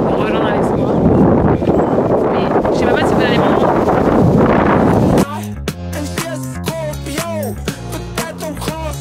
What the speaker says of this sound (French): Il y a encore énormément de vent aujourd'hui.